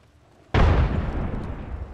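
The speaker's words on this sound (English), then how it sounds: "I'm throwing a nade" A grenade explodes in the Apex Legends battle royale game, one sudden loud blast that decays into a rumbling tail over about a second and a half, no talk.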